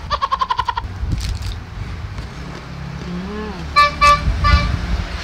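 A vehicle horn sounds in a rapid string of short beeps, then a couple more horn blasts follow over steady traffic rumble.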